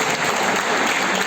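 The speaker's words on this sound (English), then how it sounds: "Can we have a huge round of applause for the winners?" A college audience bursts into loud, dense applause for the winners, a thick wall of clapping filling the whole brief moment.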